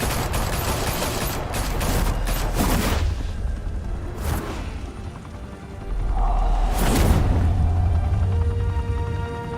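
Gunfire bursts from a Batman: The Telltale Series action scene, dense crackling volleys with whooshing sweeps and a heavy rumbling low end that swells again after a brief dip midway.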